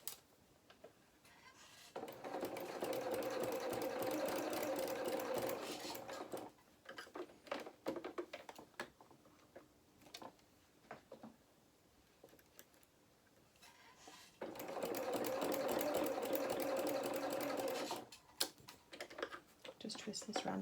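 A sewing machine stitches a fur coat for a small toy, sounding in two sustained runs of fast, rattling stitching separated by a quieter stretch of handling noise, with a voice talking at times.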